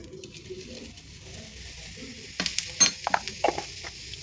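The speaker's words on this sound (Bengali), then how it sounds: "তেলটা আগে একটু গরম হয়ে যাক। এরপরে আমি ফার্স্টেই দিচ্ছি 1 চা চামচ জিরে।" A teaspoon of cumin seeds goes into heated oil for a mushroom masala. A low background hum gives way to sharp, crackling sizzle bursts near the pan.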